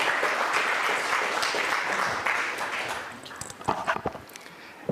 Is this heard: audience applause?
yes